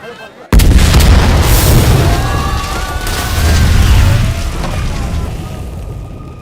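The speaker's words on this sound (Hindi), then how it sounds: "सर, टनकपुर के कलेक्टर ऑफिस में धमाका हुआ है।" A bomb goes off at a collector's office in Tanakpur, a sudden very loud blast that erupts out of near-quiet and rolls on as a deep rumbling roar, slowly fading over several seconds.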